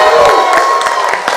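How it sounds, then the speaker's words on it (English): Audience cheering and clapping at a live real estate investor panel event, a short burst of crowd noise with scattered claps and whoops that stays loud throughout. "Make some noise for Helene."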